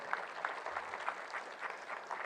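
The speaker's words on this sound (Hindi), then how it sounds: "देखो भाई इनके लिए भी ताली बजाओ यार" A short burst of audience clapping rings out, a brisk, moderately loud patter of hands that keeps up an even rhythm for a couple of seconds without voices.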